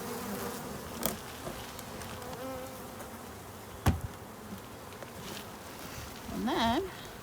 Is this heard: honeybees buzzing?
yes